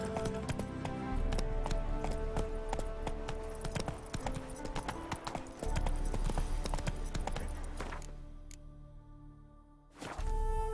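Roach, a horse in The Witcher 3, gallops with rapid, rhythmic clip-clop hoofbeats over steady ambient game music, then slows and fades near the end before a brief return.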